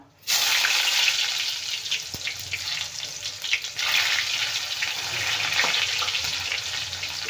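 Chopped onion sizzles loudly in hot oil already crackling with mustard seeds and cumin for a cabbage and potato dry sabzi, a dense, steady frying hiss that runs unbroken from start to finish.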